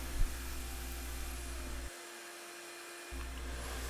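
A router cuts a tail vise cavity in a workbench with a constant high whine and roar that drops out briefly for about a second before starting again at the same pitch.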